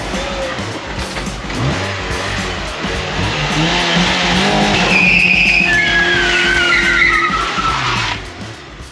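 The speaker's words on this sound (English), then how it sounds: "Your dad's car still does a skid." A car engine roars as tires squeal loudly through a skid, the high-pitched screech rising and sliding over several seconds before cutting off.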